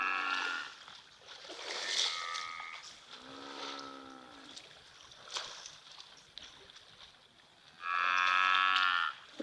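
Buffalo low and moo at a waterhole, several deep cow-like calls spread across the stretch, with a louder, sustained call near the end over faint background ambience.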